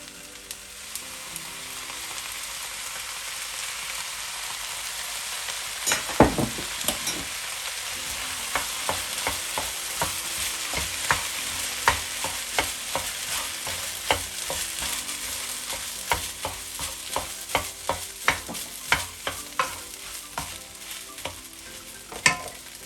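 Rice fries with a steady sizzle in a hot pan while light soy sauce is stirred in, a spatula scraping and clicking in frequent sharp taps throughout, close and alone.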